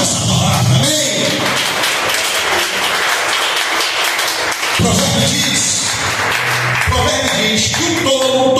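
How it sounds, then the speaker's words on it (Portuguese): A church congregation at a Baptist service claps loudly and steadily throughout, with voices mixed into the dense, sustained applause. "Aplauda essa palavra, amém?"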